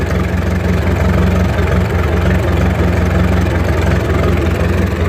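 A Farmall Regular tractor engine runs at a steady idle, loud and close, with an even low throbbing rumble and no talking.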